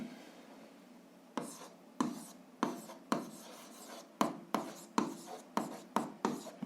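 A pen writing out the answer to a seventh-grade algebra system of equations by hand, a series of short, close scratchy strokes in quick bursts, with no talking.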